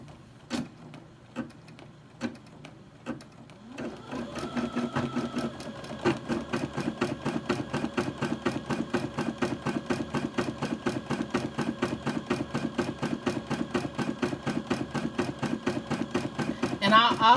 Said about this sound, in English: so you can see how the embroidery needle goes and how it stitches